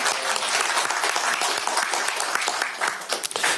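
A crowd at a Korean political party meeting breaks into dense, steady applause, many hands clapping loudly and continuously throughout.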